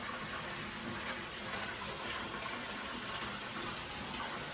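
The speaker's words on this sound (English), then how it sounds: "toilet is filling up. So that's really good flow there." Water rushing steadily into a toilet tank during a home inspection in Steamboat Springs, Colorado, a strong continuous gushing hiss with good flow that stays loud and even throughout, no voices.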